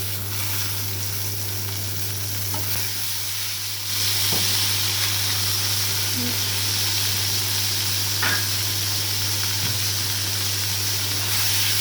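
Tomatoes and onions fry in a pan for paneer bhurji, giving a steady hiss and sizzle over a low constant hum. The sizzle turns noticeably louder partway through as the tomatoes go in.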